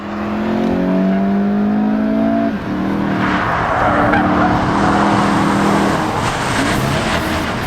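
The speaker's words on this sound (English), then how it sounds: "And a lot of wheel spin." A loud Volkswagen GTI hot-hatch engine revs hard as the front tires spin and squeal, the strained note holding steady, then rising slightly in pitch.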